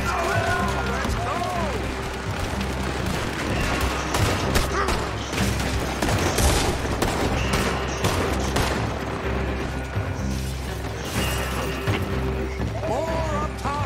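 Sustained gunfire in a video game shootout, a Wild West gang battle, with dense overlapping shots and bursts running throughout while voices shout over the action.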